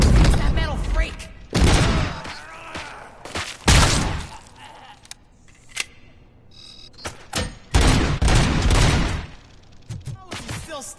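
Repeated gunfire bursts in a RoboCop video game, loud and close, with heavy impact booms between volleys and voices shouting over the shooting.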